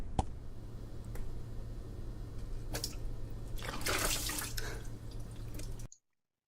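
Water splashes and drips out of a container into liquid below, a few faint drips and then a louder gush of falling water before a sudden cut to silence.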